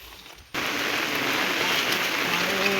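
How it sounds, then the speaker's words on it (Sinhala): Heavy rain falling, bursting in abruptly after a short quiet moment into a dense, loud, steady hiss of pouring rain that continues without a break. "මේ හොඳටම වහිනවා."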